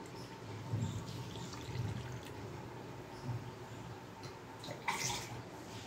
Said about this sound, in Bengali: পরিমাণ মতো এখানে আমি জল দিয়ে দিব।